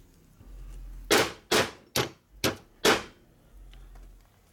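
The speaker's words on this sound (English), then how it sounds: "Rick, just tap me with the hammer a little bit." Hammer taps on Harley-Davidson 1990s five-speed transmission parts at a workbench: five sharp metallic knocks in an uneven row, loud and close, in a quiet shop.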